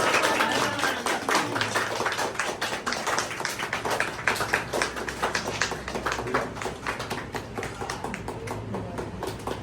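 Sustained applause and clapping from relatives gathered at a family graduation celebration, dense rapid claps continuing steadily throughout at close range, with a little talk mixed in.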